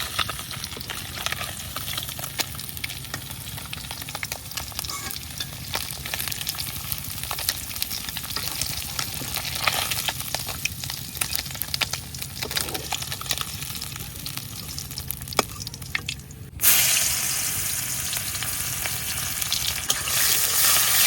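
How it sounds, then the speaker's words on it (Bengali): Small koi fish frying in oil, a persistent crackling sizzle with spattering pops and occasional stirring, turning into a denser, louder hiss for the last few seconds. "আবার হালকা একটু ভাজা দিয়ে দিচ্ছি, নাহলে কই মাছের পোনা এগুলা ভালো লাগতো না ভাজা ছাড়া"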